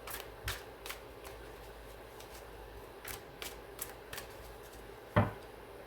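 Soft, irregular riffling and flicks of tarot cards being shuffled, quiet and close, with a sharper snap near the end.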